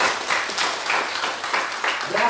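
A church congregation claps in a steady burst of applause, moderately loud and filling the room, with no break throughout.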